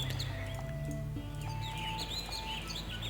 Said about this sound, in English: Not really sure why that sound effect was chosen, the birds